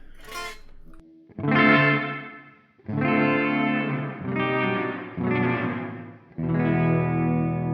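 Electric guitar chords through a hall reverb setting on a GUP Tech Bea-Verb delay/reverb pedal, several strums each sustaining into a wide, lingering wash of ambience.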